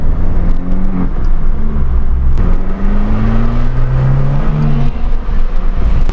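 An Abarth car engine drones and whirs steadily from inside the moving car, with rising and falling revs, loud and continuous throughout.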